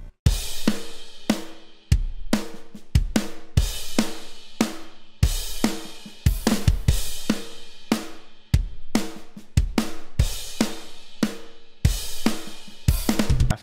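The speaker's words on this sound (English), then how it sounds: "So yeah, the drums, they sound like this." Modern metal drum beat from the Kontakt Modern and Massive library, with punchy kicks, sharp snare hits and bright cymbal crashes in a dense driving pattern, loud and alone.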